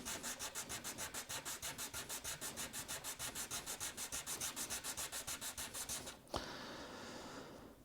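Sanding down the nut of a Gibson Studio guitar, a rapid rhythmic back-and-forth rasp of about four strokes per second, close and steady, stopping abruptly near the end with a small clunk and a quieter tail.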